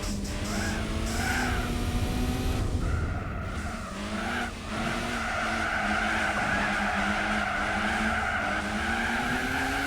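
A Volkswagen Lupo race car with a full race exhaust in Gran Turismo 4 holds a high, steady engine drone with shifting pitch, while tires squeal and skid through corners, loud and continuous throughout.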